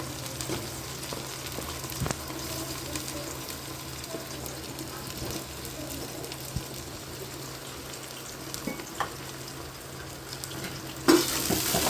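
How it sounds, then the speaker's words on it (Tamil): Onions sautéing in a pan for chicken biryani, giving a steady, moderately loud sizzle with a few faint stirring scrapes and no talking. "வெங்காயம் நல்லா கோல்டன் ப்ரௌன் ஆகணும், அது வரைக்கும் வதக்கலாம்."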